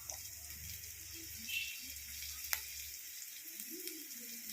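Sliced onion sizzles steadily in a pan after coriander, chilli, fenugreek and turmeric powders go in for a Kerala grape theyyal, with a soft hiss throughout and one brief metallic clink partway through.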